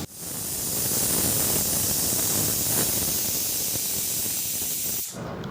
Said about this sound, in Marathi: इथे आपण कुकरमध्ये पाणी घालून 2 ते 3 शिट्ट्या काढून घ्यायच्या आहे.